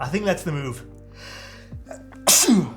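A single sharp, loud sneeze bursts out near the end, following a few moments of someone talking casually on a gaming stream.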